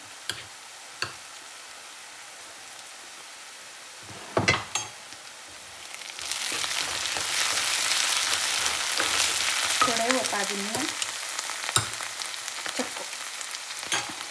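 Ginger garlic paste hits fried onions in a pan, starting quiet with a few utensil clicks before a loud hissing sizzle erupts about six seconds in and continues, with occasional taps of stirring.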